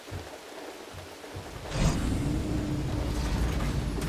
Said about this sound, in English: it's raining, so there is no sun.